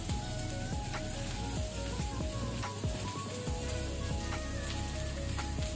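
Two medium-sized onions fry in a pan, giving a continuous close sizzle with scattered crackles and pops and occasional stirring scrapes, and no voices over it.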